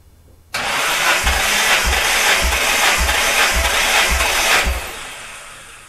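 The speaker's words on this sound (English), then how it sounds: "I'm ready to crank number one." Nissan Skyline GTR RB26DETT engine cranking over on the starter for a compression test, a steady whirring crank with about eight regular rhythmic compression pulses, loud and close, then cutting off abruptly.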